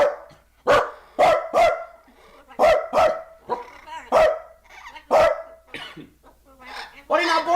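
Talking pet birds imitate dog barks, producing a string of short, sharp bark-like yaps in irregular bursts, loud and close, with people's voices mixed in between.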